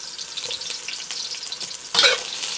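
Onions sizzle in hot oil in a wok while being stirred, a steady crackling fry with scraping stirs and a louder burst of sizzle near the end, close and without talk.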